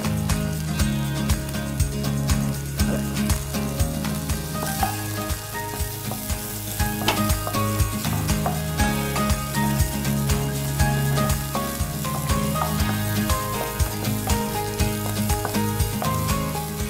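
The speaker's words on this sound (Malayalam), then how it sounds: "വെജിറ്റബിൾസ് ഒന്ന് നന്നായിട്ട് മിക്സ് ചെയ്ത് വരുന്നുണ്ട്" Vegetables for paneer pulao sizzle loudly in a hot pan as they are stirred, with a dense, continuous frying crackle and steady rhythmic scraping throughout. The sound is close and carries no talking.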